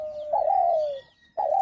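A spotted dove (tila ghughu), a caged hunting decoy bird, gives close, clear coos, one drawn-out note followed by a brief pause and the start of another.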